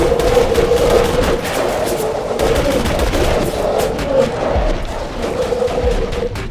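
Shotgun fire during a Borderlands 2 fight against threshers, a dense, continuous wash of loud blasts and booming combat noise with no clear gaps.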